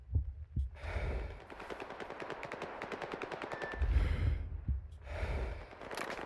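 Video game gunfire in S.T.A.L.K.E.R. 2, a long rapid automatic burst with thumping shots before and after, heard at moderate distance with no talk.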